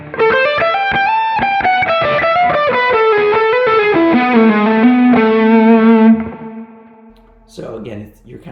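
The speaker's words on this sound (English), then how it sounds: "this is the tone that we've been hearing so far, which is this Allan Holdsworth pedal into that Mesa Lone Star" An electric guitar played through an Allan Holdsworth pedal into a Mesa Lone Star amp sings a smooth, legato lead with distortion, echo and chorus, fluid runs gliding downward into a held note that fades before a short spoken voice follows.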